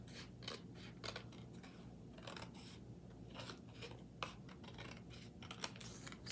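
Scissors trimming thin strips of black cardstock, a run of close, quiet crisp snips in an uneven rhythm with soft paper rustles between cuts, no voices.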